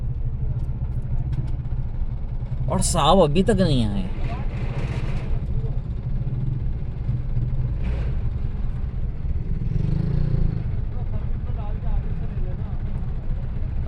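A steady engine rumble and traffic noise roll past on a road in Karachi as a VVIP convoy of about thirty cars and motorcycles goes by, with several brief horn-like bursts and people talking nearby.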